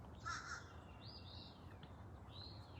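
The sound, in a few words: crow cawing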